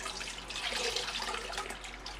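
Air bubbler bubbling in a bucket of worm compost tea, a constant hissing, fizzing wash of water and bubbles heard close up and alone.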